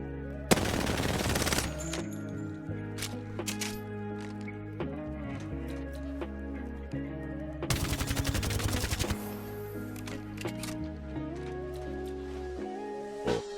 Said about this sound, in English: Here is a shooting comparison between the Volt and the R99 with recoil control and no recoil